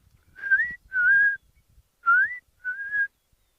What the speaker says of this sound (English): Can hear a rufous nape lark.